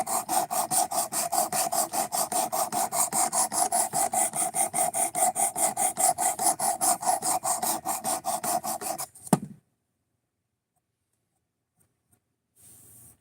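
A knife blade being drawn over sharpening stones on a Precision Adjust sharpener, a fast, regular series of close, gritty rasping strokes that runs for about nine seconds, then stops abruptly into near silence.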